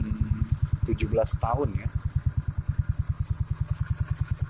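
Suzuki Spin 125 scooter engine fitted with an RX King carburetor, idling with a steady, fast, even pulsing beat close up, while someone talks briefly over it.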